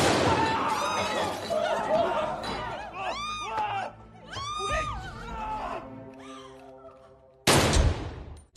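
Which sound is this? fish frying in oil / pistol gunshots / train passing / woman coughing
pistol gunshots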